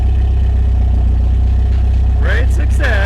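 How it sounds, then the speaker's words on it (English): A Toyota SW20 MR2 turbo engine idles close by with a steady, low, even drone, and a brief voice-like tone rises over it near the end. "It's idling a lot nicer."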